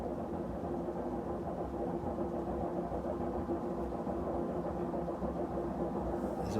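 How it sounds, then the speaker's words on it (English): Washing machine running in a room as steady, rumbling mechanical noise, continuous and fairly quiet throughout, with no talking over it. "Apologies for the noise in the background, by the way, that's the washing machine."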